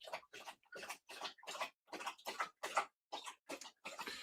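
A dog named Moose laps water from a bowl, about a dozen quick, faint, wet slurping bursts in a steady rhythm, close by and otherwise quiet.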